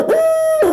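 A turkey hunter's owl hooter call gives a single loud, close hoot, rising and then held steady before dropping off, imitating an owl in the early morning.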